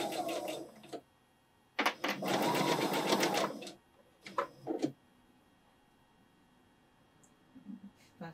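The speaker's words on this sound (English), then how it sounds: "I'm gonna sew this together." A sewing machine stitches fabric patch pieces together in short runs: a brief burst, a steady whirring stretch of about two seconds, then a few quick stutters, with quiet pauses between and faint handling noises.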